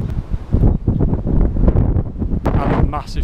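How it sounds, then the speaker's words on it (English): Strong wind gusts buffet the microphone outdoors in a valley, a loud, steady roar with rumbling bursts throughout. "It's really windy today."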